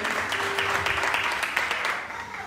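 A church congregation applauding in a dense, steady wash of clapping that holds for the whole moment, with voices mixed in beneath it.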